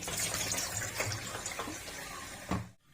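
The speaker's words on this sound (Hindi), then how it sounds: "फिर से इसका पानी चेंज कर देंगे।" Water splashing and running steadily close by, poured over rice in a bowl while rinsing it, then cutting off abruptly at the end.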